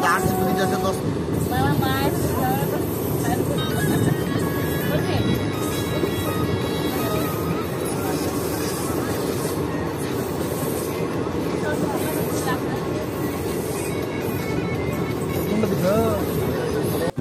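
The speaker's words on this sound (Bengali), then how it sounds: "দেখতে পাচ্ছেন খুব ভালো স্পিডে ছুটে চলেছে আমাদের ট্রেন" The Kaviguru Express rushes along at speed, wheels clattering and carriage noise rumbling steadily throughout, with a voice talking over the continuous rail din and occasional squeals.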